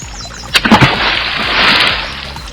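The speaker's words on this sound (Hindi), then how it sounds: "हाथियों ने अपनी सूंड से मछलियों को पानी के साथ तालाब में छोड़ दिया।" Water gushes from elephants' trunks into a pond, a loud close splash and slosh that swells into a sustained rushing pour.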